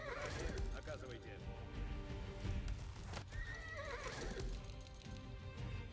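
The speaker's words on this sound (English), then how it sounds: "Bunch of horses, bunch of them." Several horses neigh and whinny amid clattering hooves in an Age of Empires IV battle, a dense, continuous din of mounted units with game effects layered throughout.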